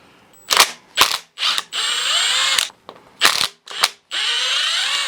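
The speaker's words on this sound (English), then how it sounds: "We're gonna take off these 3 bolts, which are going to be 1/2 inch." A Milwaukee ratchet removes half-inch bolts on a Marine Chevy 350 (5.7 Indmar) engine, sounding as several loud, short whirring bursts broken by two longer sustained runs, close and alone.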